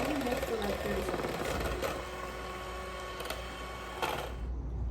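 An electric mixer whirs steadily while milk is added slowly to tres leches cake batter, a continuous motor hum running the whole time with a slight drop in level partway through.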